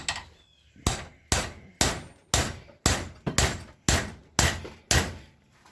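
Sledgehammer striking a metal vise to tighten it in a home garage, ten loud, evenly spaced clanking blows, each ringing briefly before the next.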